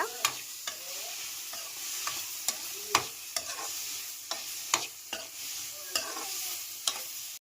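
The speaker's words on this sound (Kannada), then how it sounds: "ಇವಾಗ ಇದು ನಾವು ಏನು ಹಾಕೊಂಡಿದ್ದೀವಿ ಅದೆಲ್ಲ ಫ್ರೈ ಆಗ್ತಾ ಇದೆ" Ginger, garlic, onion and tomato fry in a pan with a soft continuous sizzle, punctuated by regular sharp spatula taps and scrapes roughly every half second; no voices.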